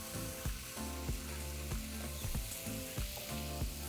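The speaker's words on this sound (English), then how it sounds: "we're going to remove them from the oil." Fries bubble and sizzle steadily in hot frying oil, a dense continuous crackle with periodic stronger pops, alone without talk.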